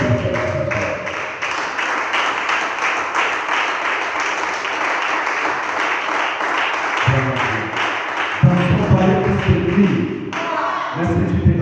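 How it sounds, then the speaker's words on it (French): Congregation applauding during a church prayer service, a dense burst of clapping that swells and continues with a few thumps, mixed with some voices. "Acclame plus fort"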